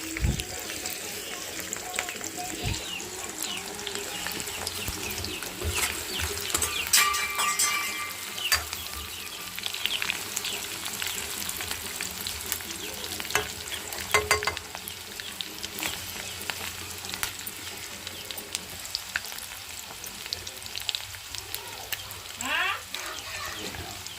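Onions frying in oil in a home kitchen pan, with tomatoes going in next: a steady, moderately loud sizzle and crackle running throughout, with occasional stirring clatter and some faint background noise.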